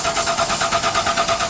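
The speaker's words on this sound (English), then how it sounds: "Start it up." A 1996 Ford F250XL pickup with a bad fuel pump cranks and starts its engine, giving a steady, close, rhythmic pulsing churn over a short stretch.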